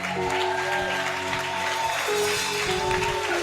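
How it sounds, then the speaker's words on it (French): A church congregation applauding in acclaim of the Lord during a Sunday worship service, dense sustained clapping mixed with cheering and sung or shouted voices, with a steady organ-like tone underneath. "je veux que tu acclames le Seigneur"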